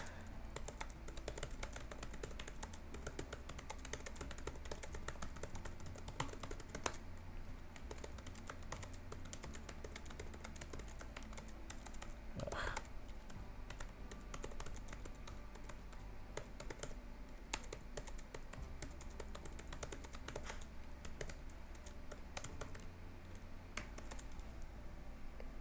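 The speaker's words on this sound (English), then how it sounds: "This is a good time to do that typing part of the show that I do" Steady typing on a computer keyboard, with rapid continuous key clicks at an even pace and occasional louder strikes, close and fairly quiet, with a low hum underneath and no talk.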